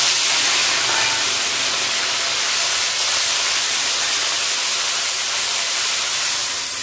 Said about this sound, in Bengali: তেল গরম হয়েছে, ফোড়ন দিয়েছি ওটা গরম মশলা, কাঁচা লঙ্কা, শুকনো লঙ্কা, পেঁয়াজ সব একসঙ্গে বাটা দিয়ে দেবো।